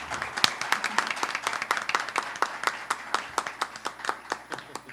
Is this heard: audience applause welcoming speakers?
yes